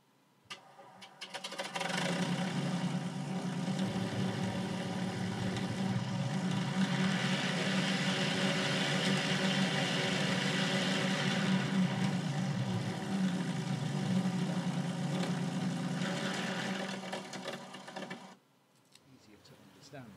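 An ESS-AIR engine sound system for RC cars and aircraft starts up and plays a simulated engine note, a steady buzzy idle with a busy mechanical texture that holds for about fifteen seconds before cutting off, fairly quiet and with no speech.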